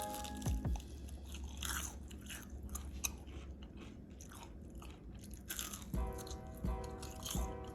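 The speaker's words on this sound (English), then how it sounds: "Listen to this crunch." Close, crisp crunches of someone biting and chewing a crunchy vegan salad, repeated bites with short pauses between them.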